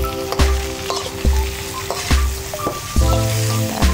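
Tomatoes and green chilies fry with onions in a pan for an oncom dish. A loud, steady sizzle runs throughout, broken by several sharp clattering stirs of a utensil against the pan.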